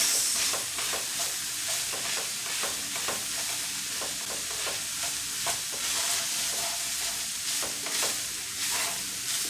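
Egg roll filling mixed in a bowl, a continuous loud wet churning and rustle with rapid rhythmic strokes throughout, close and without any voices.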